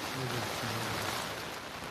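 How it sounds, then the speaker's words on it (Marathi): Heavy rain pouring down in Virar, Maharashtra, during a downpour that has flooded low-lying areas, a steady dense hiss throughout with faint low murmuring underneath. "काल रात्रीपासून वसई विरार परिसरात धुवाधार पाऊस पडतोय"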